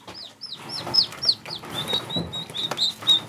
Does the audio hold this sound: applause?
no